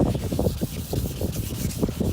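Hand sanding a faded car headlight lens produces a steady, close scratchy rubbing in quick back-and-forth strokes with a regular rhythm, heard alone without talk.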